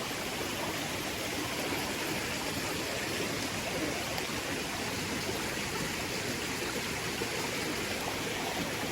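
Steady stream water flowing continuously outdoors where a child is being bathed, a dense, even rush of running water close by with no talk over it.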